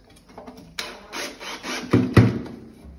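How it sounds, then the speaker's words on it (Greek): Screws being driven in to fix a roller shutter motor in place, heard as a few close, rasping, grinding bursts that build toward two louder twists near the end, with no talking. "πάμε και βιδώνουμε τις βίδες"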